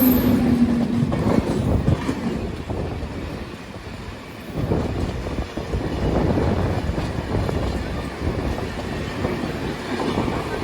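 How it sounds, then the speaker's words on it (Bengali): The Sealdah Rajdhani express passes on the adjacent track before Bardhaman, heard from aboard a moving train as a loud, sustained rush of rolling wheels and rattling carriages with some wind buffeting, and no talk. "এই শিয়ালদা রাজধানী ক্রস করছে পাশ দিয়ে বর্ধমান ঢোকার আগে"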